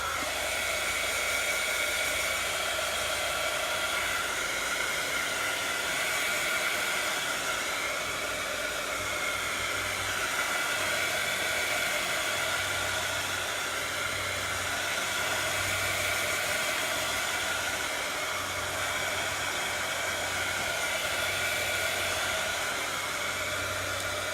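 A hair dryer blows steadily on fresh yellow paint on an old cigar box, a continuous close, loud whooshing airflow with a faint low motor hum, unbroken and without talk for the whole stretch.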